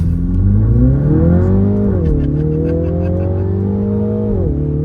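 A 2023 Mini Countryman JCW accelerates hard from a launch on a slight uphill, its engine note loud and close, climbing steadily with a couple of quick gearshift dips, no talk over it.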